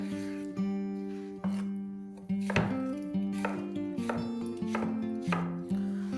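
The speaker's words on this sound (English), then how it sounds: "So roughly cut cucumber." A knife roughly chops cucumber on a cutting board, giving about eight sharp, close knocks at an uneven pace, each one ringing briefly in the quiet between cuts.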